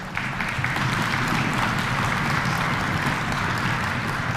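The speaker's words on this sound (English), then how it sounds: "So round of applause for Paul Barron." An audience at a high school honors concert applauds a student scholarship recipient, a dense, steady round of clapping from a full hall that holds at even loudness throughout without any voices over it.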